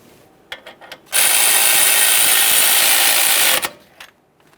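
A power tool drives a 10mm mounting bolt while an upper control arm is installed on a 2015-2020 Ford F-150, with a few short clicks before one loud, steady whirring run of about two and a half seconds that then cuts off.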